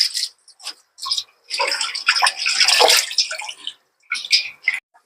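Rinse water splashes and drains off washed pork ribs in bursts, a close, bright spattering with short gaps of silence between pours, ending in a few final trickles.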